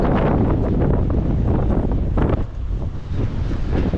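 Strong coastal wind buffets the microphone on a seaside run, a loud, roaring rumble with gusty surges and no voices.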